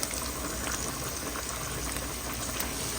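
Corned beef sautéing with garlic and onion in a pan for Filipino-style spaghetti: a steady, dense hiss of frying that runs evenly and fairly quietly throughout, with no talking.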